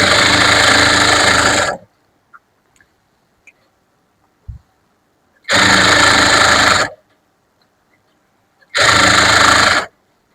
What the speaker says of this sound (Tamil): அதுக்கு மேலேயே ஒரு தையல் கூட போட்டுட்டு இருக்கேன்